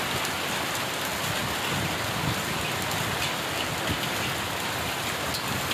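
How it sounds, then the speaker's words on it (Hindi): Steady, dense heavy rain with hail pouring down without a break, a loud continuous hiss filling the whole clip. "तेज बारिश गर्मी से राहत दिलाती हुई"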